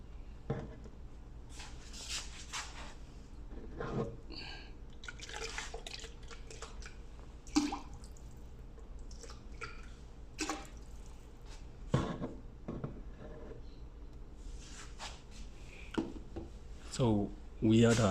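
Water drips through a lab filter in soft, scattered drops, with light clinks and handling noises and faint speech between them.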